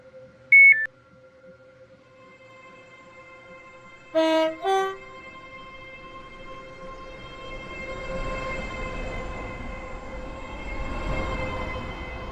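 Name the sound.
train passing in video game Stepford County Railway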